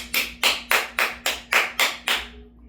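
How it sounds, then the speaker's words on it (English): Eight sharp hand claps at an even, unhurried pace, close and loud, then quiet. "I'm going to clap for you"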